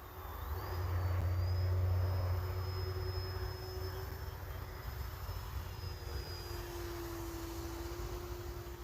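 An E-flite Viper 90mm EDF model jet flies overhead, a steady whooshing electric ducted-fan whine that swells slightly then holds at a constant moderate level, with no talking.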